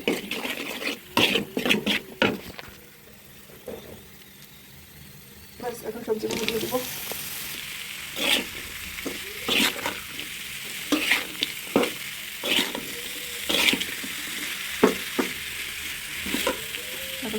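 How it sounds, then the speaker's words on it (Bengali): Salted vegetable bhaji, bitter gourd with fish and tomato, sizzles in a pan while a utensil scrapes and stirs in sharp repeated bursts, with someone talking at times over the frying. "আর এখন ভাজিটা করবো লবণ দিয়ে দিয়েছি"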